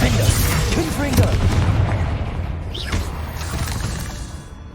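Spell blasts from Confringo and Incendio cast in the video game Hogwarts Legacy, a dense run of loud booming, shattering impacts over busy combat noise with spoken voices mixed in.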